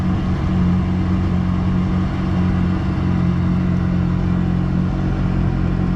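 Kawasaki 2022 310 jet ski with an unlocked ECU running in full power mode, its engine a steady, loud, continuous roar with a strong low hum that holds constant throughout, no voices.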